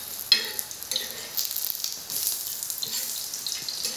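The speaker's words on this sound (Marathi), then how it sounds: "आता दुसऱ्या साईडनी तळून घ्यायच्या" Colocasia leaf vadi fry in shallow oil on their second side, giving a soft, steady sizzle with faint splashy bursts, close by and quiet, with no talking.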